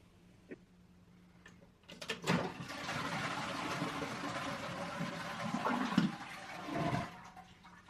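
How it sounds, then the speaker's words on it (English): A toilet flushes loudly after a quiet start, water rushing and gurgling for about five seconds before draining away, close by. "Next, it's time to remove the toilet tank and flush out the water."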